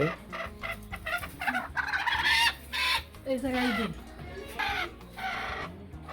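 Hen clucking in a rural yard as she is set down on a nest of eggs, a series of nearby clucks and throaty fowl calls in uneven bursts, fairly loud and clear.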